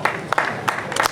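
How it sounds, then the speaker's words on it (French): An audience applauds at the Saint-Pierre festival in Sète, a short burst of dense clapping from a crowd that stays fairly steady and close throughout. "je crois qu'on peut à nouveau vous applaudir"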